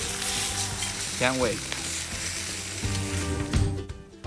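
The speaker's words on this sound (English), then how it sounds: "Look at that sizzle coming out from the tomatillo." Tomatillo and vegetables roast with a loud, steady frying sizzle that runs throughout. A voice speaks briefly over the sizzle and occasional clinks.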